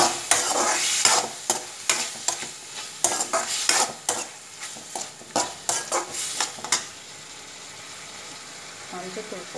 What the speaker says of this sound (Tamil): இறாவை போடுறேன், போட்டு நல்லா செஞ்சு விடுங்க.